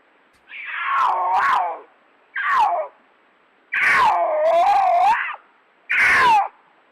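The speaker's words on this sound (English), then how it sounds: "Has anybody not heard a mountain lion yell before?" A mountain lion gives four loud, harsh screaming yells in close succession, each lasting about half a second to a second and a half, with short silent gaps between them.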